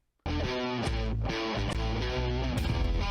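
Heavily distorted electric guitar riff, bursting in abruptly and chugging loud and dense with sustained power-chord tones and brief dips, no voices.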